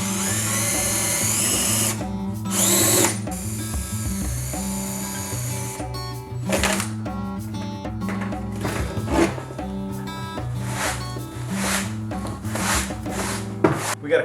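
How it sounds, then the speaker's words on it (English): A drill grinds through rivets on window tabs, producing rough, gritty bursts of drilling broken up by short pauses and scraping, close and loud throughout. "the way we're going to do that is by center punching and then drilling out those rivets"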